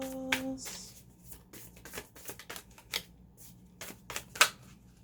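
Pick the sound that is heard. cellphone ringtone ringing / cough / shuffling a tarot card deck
shuffling a tarot card deck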